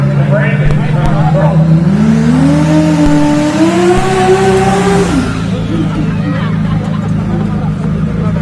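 A drag racing car revs hard at a drag strip event, its engine note climbing in pitch over several seconds before cutting back, loud and steady over a dense crowd hubbub.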